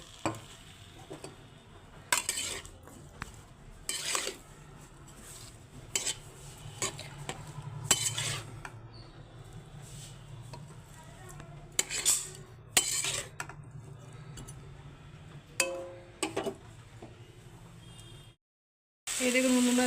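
Spices with a little water are stirred in a pot, giving repeated utensil scrapes and clinks against the metal and a soft simmering sizzle. The sound stops briefly near the end.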